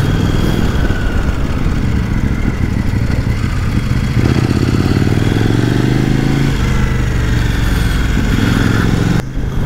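A KOVE 800 X Pro motorcycle engine runs loud and close throughout, a continuous rumbling drone with shifting pitch as it rides.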